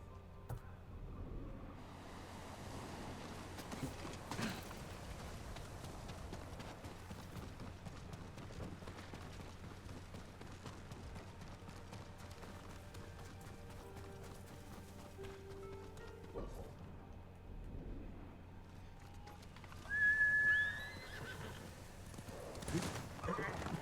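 A horse gallops in the Ghost of Tsushima video game, with soft rhythmic hoofbeats under a steady low rumble and a short whinny near the end, while a person speaks at times.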